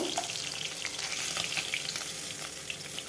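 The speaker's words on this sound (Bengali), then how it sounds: "এইভাবে আমি সবগুলো মাছ ভেজে নেব।" Pomfret fish fries in hot oil with a constant loud sizzle and scattered pops and crackles throughout.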